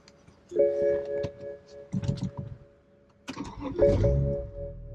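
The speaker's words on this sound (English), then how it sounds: "Let's try and start the car." A BMW E92 car started with a newly programmed key: short electronic chime tones and clicks, then bursts of cranking and the engine catching, heard close in a quiet setting.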